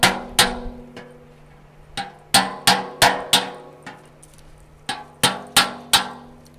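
Sharp chisel struck repeatedly with a hammer to cut wood at a charcoal-making retort, giving a dozen or so close, ringing strikes in irregular pairs and clusters, loud and alone.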